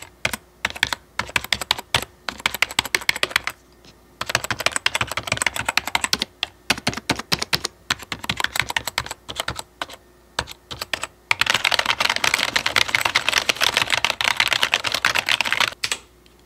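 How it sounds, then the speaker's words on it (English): Close-miked typing on an RK61 mechanical keyboard, with dense bursts of crisp key clicks separated by short pauses, then a continuous rapid run of keystrokes toward the end, with no voices. "I'm gonna put the Rode mic down on the keyboard so y'all can hear me click"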